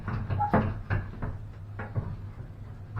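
Heavy melanite door being hung and moved, a few close wooden knocks and thumps with short scrapes, irregularly spaced, with no voices.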